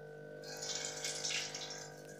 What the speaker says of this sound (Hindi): एक पतीली में 5 कप मैंने पानी डाल दिया है